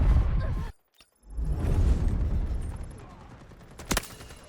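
SCAR-H rifle fire in the shooter game Delta Force comes as a dense burst of shots, a sudden silent gap, then more muffled gunfire and battle clatter, with a final sharp crack near the end.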